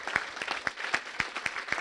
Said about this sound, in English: let's give a big round of applause for our lovely panel